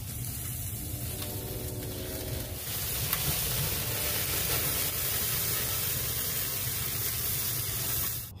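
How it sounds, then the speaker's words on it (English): Flambé flame hissing over grilled lobster dynamite on a Hasty Bake Legacy 132 charcoal grill, a steady spraying hiss with faint sizzle that grows slightly louder midway and stops sharply at the end. "if you are pyromaniac like me i think like a little bit of a flambe at the end"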